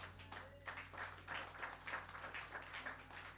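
A church congregation claps and applauds in praise of the Lord, steady rhythmic applause with a hum of background noise, fairly faint and without clear talk over it.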